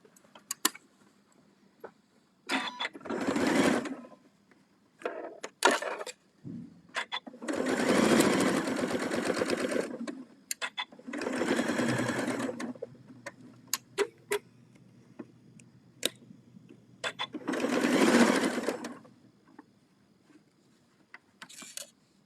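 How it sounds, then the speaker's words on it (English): Bursts of a sewing machine stitching a quilt seam in several runs of a few seconds each, with quiet pauses and small clicks between, no talking. "So let's come back to the sewing machine."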